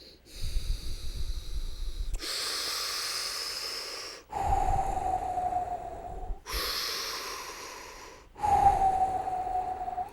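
Slow, smooth breathing alternates between drawn-out inhales and exhales, four long even breaths in a row, close and clear with no talking.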